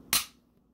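A Glock 19X pistol trigger is pulled once, giving a single sharp, close click that rings briefly and then fades into quiet.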